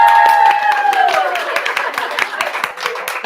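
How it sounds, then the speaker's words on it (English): An audience at a book club author event cheers and claps as the author arrives: dense, close applause with whooping voices at the start, thinning and softening over a few seconds. "I told them to cheer for you."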